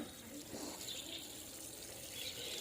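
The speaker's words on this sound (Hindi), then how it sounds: "इसको हमने यहाँ पर रख दिया है ला करके, और इसमें लगा देंगे पानी।" Water is poured into a cactus pot with a soft, continuous trickle and splash, faint and close, with no talking.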